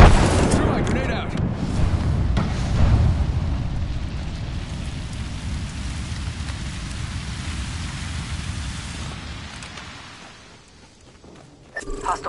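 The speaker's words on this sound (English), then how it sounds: "Throwing thermite grenade." A thermite grenade goes off in a first-person shooter video game, with a loud burst followed by a long crackling, hissing burn that slowly fades, then a sharp noise at the end. Game sounds and voices blend in.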